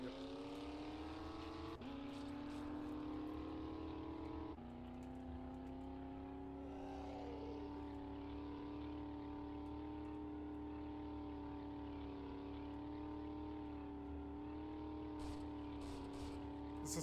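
A truck drives in the video game 7 Days To Die, its engine a steady droning hum with a couple of gear shifts and pitch changes early on, continuous and fairly close under faint background noise.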